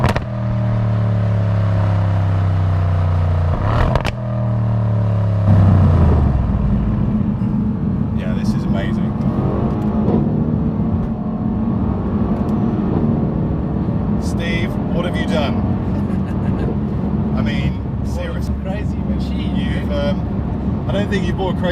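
A Mercedes C63S AMG coupe revs hard and its engine pitch climbs, then drops off into crackling exhaust pops and bursts, loud and close, with people talking over part of it.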